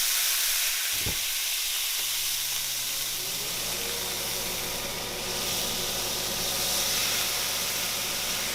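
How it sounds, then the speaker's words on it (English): A hot pan is deglazed with a sweet, sherry-like wine. After a sharp knock near the start, a loud, steady sizzle and hiss rises and fills the rest of the clip, with no talking. "I'm going to use that to just basically deglaze my pan"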